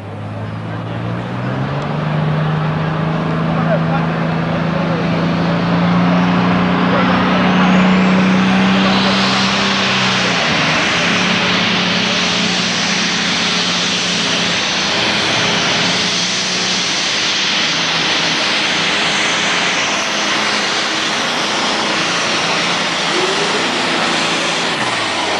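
A Fiat pulling tractor, formerly 160 horsepower with a three-plate clutch, roars down the track at a tractor pulling event in Sottrum, a loud sustained engine drone that climbs and builds, with an announcer talking over it.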